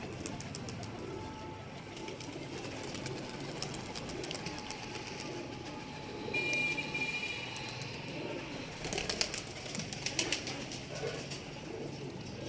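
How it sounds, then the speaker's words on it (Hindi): Pigeons coo softly in an open outdoor spot, a faint steady bird calling over low background hum, with a brief burst of wing flapping and rustle near the end. "ये भी कबूतर तंग कर रहा है हमें"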